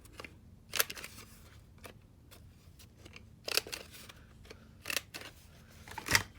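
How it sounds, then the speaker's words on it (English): A corner-rounding punch or scissors clips the corners of paper cards, several crisp snips with pauses between them, close and clear with no talking. "I'm going to round the corners of all the cards."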